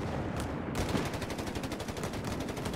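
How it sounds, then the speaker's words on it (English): Rapid gunfire from M1 carbines and Browning light machine guns fired by paratroopers in Company of Heroes 3, a steady stream of close, evenly spaced shots with no talk. "Got the LMG paratroopers are going at it with a mix of carbines and Browning light machine guns."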